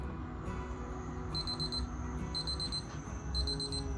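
A Casio F-201WA digital watch countdown timer alarm sounds in three bursts of rapid, high-pitched beeps over a low background hum.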